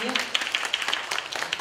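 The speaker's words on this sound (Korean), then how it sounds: "우리 큰 박수 한번 해주세요" Brief scattered applause from a lecture audience at a memorial talk, light irregular claps close together.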